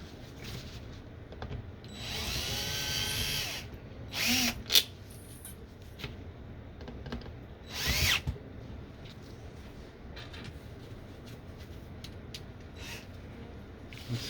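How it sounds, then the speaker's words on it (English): A power tool drives screws into the housing of a P600 air purifier during a filter change, with a sustained whirring burst followed by a few short, sharp bursts against a quiet background. "Take a screwdriver or a power tool."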